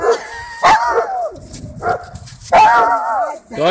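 Several dogs bark and yip at a dog park in good weather, loud and close in uneven bursts with a whimper between, while people talk and coo over the barking.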